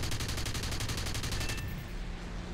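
Rapid burst of aircraft cannon and machine-gun fire from an Fw 190 D-13 fighter in War Thunder, a fast even rhythm of loud, close shots lasting about a second and a half, then engine drone carries on alone.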